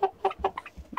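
A three-month-old Mechelen cuckoo cockerel gives a series of short, close clucks and croaks in an uneven rhythm, with no talk over it.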